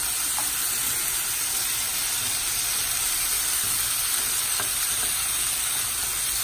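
Yellow peppers and radishes fry in a hot pan, giving a steady, dense sizzle and hiss that stays loud and even throughout, with a couple of faint clicks and no voices.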